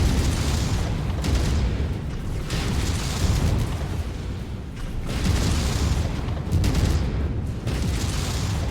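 Mechs blowing up in the modded video game Mechwarrior 5, a run of heavy booming explosions rolling in repeated waves, loud and close, with little talk over them.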